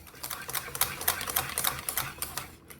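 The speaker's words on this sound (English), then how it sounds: "Then use a whisk to mix it all up into a smooth paste." A whisk beats gram flour with curd into a smooth paste, giving rapid, rhythmic clicking and scraping strokes against the bowl, close and fairly loud, with no voice over it.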